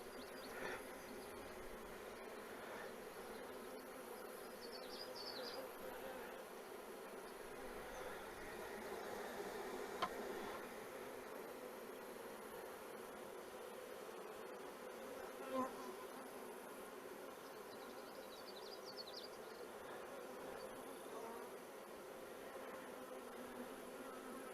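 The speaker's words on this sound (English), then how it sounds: "Well, that one little bee is not showing aggression." Honey bees buzzing around a nuc in July: a faint, steady hum of many bees that runs throughout, with occasional louder passes close by.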